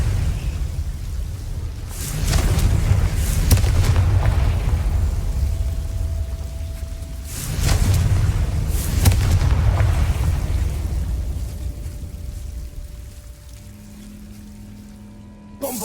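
A Confringo fire spell is cast in Hogwarts Legacy, producing two heavy booming explosions about five seconds apart, each followed by a long rumbling, crackling decay that fades away.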